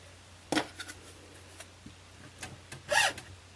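Vinyl transfer tape is burnished down by hand, producing two short, close scraping rubs about two and a half seconds apart, with a few faint scuffs between them in an otherwise quiet room.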